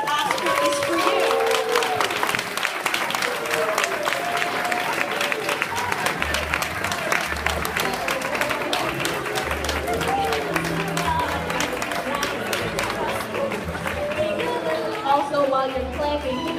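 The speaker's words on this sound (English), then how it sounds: "while you're clapping, give it up for our wonderful music engineer and PowerPoint runners, Tim Halligan and Miss Keela Bailey." A graduation audience claps steadily in a large hall, with crowd noise and a few cheers mixed into sustained applause across the whole stretch; a voice speaks over it at points.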